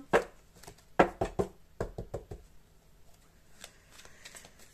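A deck of cards shuffled by hand at close range, a run of sharp slaps and riffles up front that fade into softer shuffling, with no talk.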